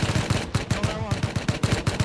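Rapid repeated gunfire in the survival game Rust during an online raid, a dense rhythmic burst of about a dozen sharp close shots over two seconds with a brief pause in the middle.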